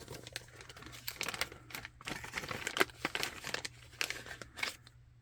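Sticker backing crinkling and rustling as an official FSC sticker is peeled and pressed onto a Scan and Cut SDX125e cutting machine. The crackles come close and irregular, in short bursts.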